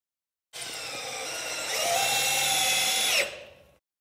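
A power drill drives a long torque screw into the wooden frame of a lumber rack cart, one steady whine that rises in pitch and loudness midway, then stops abruptly.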